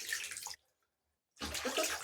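Tap water runs steadily while a small dog is being washed, loud and close, stopping for nearly a second of silence before gushing again; no speech over it.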